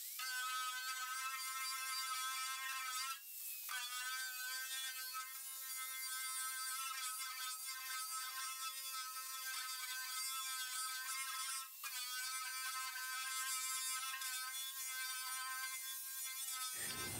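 A Bauer surface conditioner fitted with an abrasive wheel strips paint, producing a continuous high buzzing whine that holds steady for a long stretch with two brief dips.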